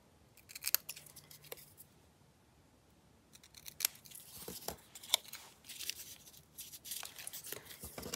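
Scissors trimming paper for a craft collage: repeated crisp snipping cuts in irregular bursts, close and fairly quiet, with a pause partway through and light paper rustling.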